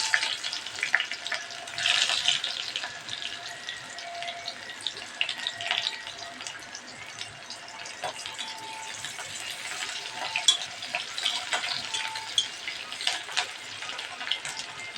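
Cumin seeds, raw onion and green chillies frying in hot oil for bamboo shoots, giving a steady close sizzle with crackling pops and soft stirring clatter throughout, no talking.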